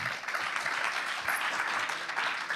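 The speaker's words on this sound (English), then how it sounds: "And you definitely deserve a round of applause." A conference audience claps in a steady, even burst of applause lasting a few seconds, moderately loud and with no talking over it.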